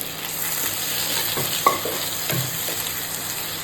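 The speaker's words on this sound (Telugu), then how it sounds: "ఇలా మగ్గిన దాంట్లో మనము కోసి పెట్టుకున్న గుమ్మడికాయ ముక్కల్ని ఇందులో వేసేద్దాం." Cut pumpkin pieces go into a pan of cooked-down masala, with a low steady fry and a few brief clatters and sizzling bursts as they are added and stirred.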